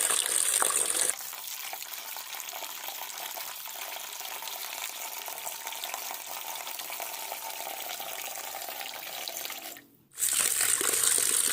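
Fish being washed under a running kitchen tap, a steady hiss of flowing water with a brief cut-off and restart near the end, close and continuous.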